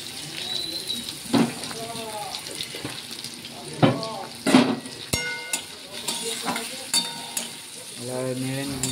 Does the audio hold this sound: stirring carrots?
yes